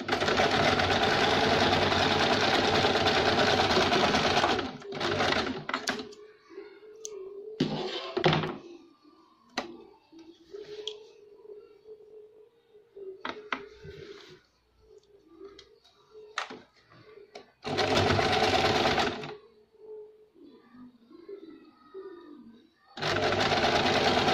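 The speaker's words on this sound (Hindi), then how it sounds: "डबल सिलाई लगाएंगे।" A sewing machine runs double stitching on a girl's frock, whirring loudly in steady bursts at the start, middle and end, with quiet fabric handling, soft knocks and faint speech in the pauses between runs.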